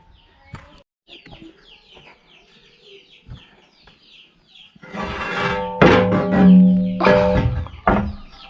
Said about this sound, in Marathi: ह्याच्यामध्ये ना कोंबडी आहे